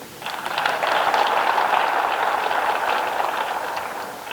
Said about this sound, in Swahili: Tusidanganyane, mjipigie makofi.